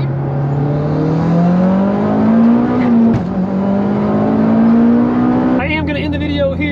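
A Mitsubishi Lancer Evolution X engine revs up loud and close from inside the car, its note climbing steadily through one gear, then a quick shift and another rising pull.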